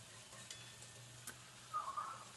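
A spoon stirs egg tikka masala in a pan, with a faint sizzle, a couple of soft scraping strokes and a brief louder scrape near the end.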